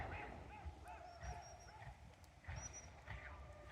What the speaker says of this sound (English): They're waiting for them to come across. The old geese are going.